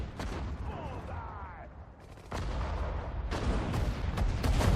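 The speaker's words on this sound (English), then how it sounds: "Alright, so this gun's firing." An artillery gun fires in the Sudden Strike 4 war strategy game. Sharp, heavy booms stand out over a rumbling battlefield backdrop, with a couple of distinct blasts in the second half.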